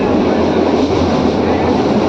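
A slow train rumbles steadily through Sasan Gir forest in Gujarat, its broad, continuous rolling roar close and loud for the whole stretch, with no clear voices over it.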